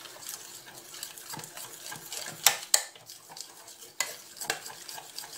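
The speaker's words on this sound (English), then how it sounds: "When the cream is ready, you can mix it to the chocolate." A spoon or whisk stirs warm cream into chocolate in a bowl for chocolate mousse, giving soft repeated scraping strokes with a few sharper clinks against the bowl, close and fairly quiet, with no voices.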